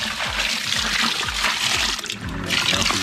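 Live land crabs rinsed under running water, a loud, steady splashing stream close by with a short break near the end, no speech.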